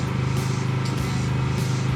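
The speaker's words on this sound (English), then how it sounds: "Apologize for the noise. We're by the generator," Generator running at a camp beside a shed being converted into a house, a loud, close, steady mechanical drone with an even pulsing hum throughout the short stretch.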